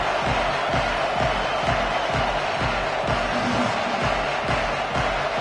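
A home stadium crowd roars steadily in a college football playoff video game, a dense continuous wash of cheering and shouting that stays loud and unbroken throughout.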